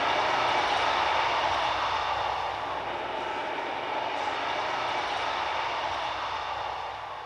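A train passes through the new Okehampton Interchange station site in Devon, a steady broad rumble and roar that holds throughout and eases slightly at the end, with no talk.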